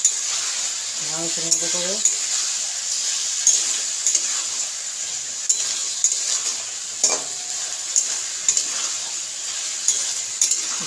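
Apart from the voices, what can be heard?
sautéing spice masala in a pan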